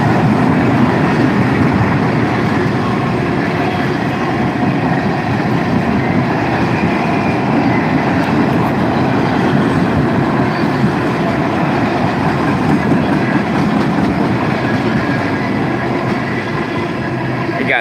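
A train of graffiti-covered freight cars rolls past at close range, a loud, steady rumble and rattle of wheels on rails that holds level throughout with no talk over it.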